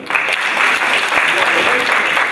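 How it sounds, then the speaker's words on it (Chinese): A seminar audience at a 2024 Shanghai–Taiwan symposium claps to welcome a keynote speaker, loud, even applause filling the hall throughout with a voice faintly audible. "大家掌声欢迎！"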